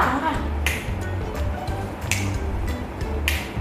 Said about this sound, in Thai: ดีดนิ้วค่ะ กี่ทีคะ สองครั้งค่ะ